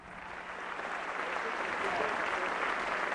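Steady, dense applause from a large audience giving a standing ovation, sustained and even throughout with no voices standing out.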